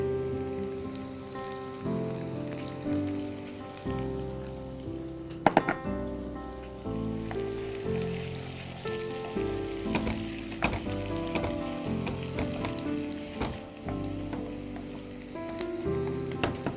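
Onions fry in a pan with salt, sizzling loudly and continuously in close hot oil, with occasional stirring scrapes and a brief clatter partway through.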